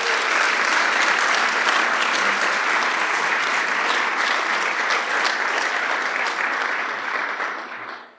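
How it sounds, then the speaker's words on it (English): An audience claps warmly for a group of students from Moreau at a mission-focused gathering. The applause is full and sustained for about eight seconds, then fades out near the end. "can we give our students from Moreau another round of applause?"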